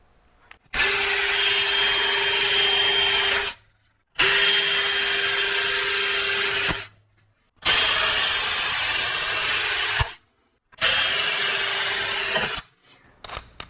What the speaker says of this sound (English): So I'm going to drill a pilot hole a little bit smaller than this pilot.